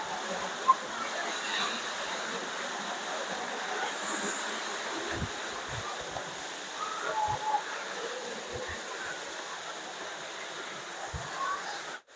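Saeng Chan waterfall in Khong Chiam, its water falling through a hole in the rock, gives a steady broad rush that stays even and moderately close from start to finish, with a few soft knocks and faint voices in the background.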